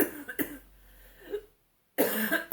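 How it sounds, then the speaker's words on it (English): A single person with a cold coughs a few times, close and fairly loud, with short quiet gaps between the bursts. "so excuse my cough"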